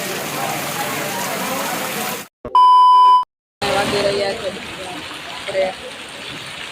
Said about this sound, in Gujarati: વરસાદ જોઈ લ્યો તમે